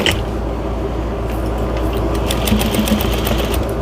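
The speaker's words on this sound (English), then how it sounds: "So I'm going to make sure I'm catching all of the layers of the towel, all the layers of the fabric." A sewing machine stitches a quarter-inch seam through several layers of towel fabric, giving a steady close whirring drone with faint mechanical ticking for the whole stretch and no talking.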